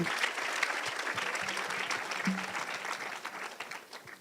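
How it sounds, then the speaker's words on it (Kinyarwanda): Audience at a graduation ceremony gives warm applause to a parent, a steady dense patter of many hands clapping, moderately distant and continuing throughout. "amashyi menshi cyane ku mubyeyi wacu."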